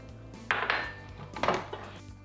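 Mashed potatoes are mixed with veggie broth in a pot: two soft scraping, squelching strokes of a utensil, close and moderately quiet, without any voice.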